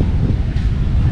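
Strong wind roars and buffets the microphone in a steady low rumble at a Japanese-style garden in the Philippines, with no one speaking.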